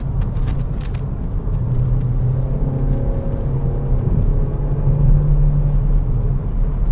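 A 2008 Saturn Astra 5-door XR engine drones and rumbles steadily from inside the cabin as it accelerates, its low hum rising slightly with some road noise and no talk.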